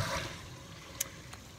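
A live well pump on a 12-foot john boat runs steadily, sending a continuous trickle of water into the well, close and fairly quiet with a couple of faint clicks.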